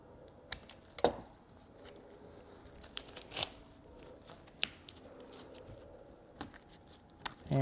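Trimmers snip excess material off an acrylic panel in a series of sharp, separate cuts and clicks at irregular intervals, close by and fairly quiet, with no voices.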